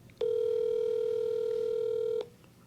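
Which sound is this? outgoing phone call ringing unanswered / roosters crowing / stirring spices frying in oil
outgoing phone call ringing unanswered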